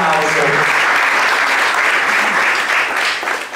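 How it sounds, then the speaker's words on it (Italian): A festival crowd at a wine celebration bursts into loud, close applause, a thick continuous patter of many hands that swells and stays strong before tapering slightly at the end. "presentato oggi dal signor Bruno Silvestrin, che merita un grande applauso."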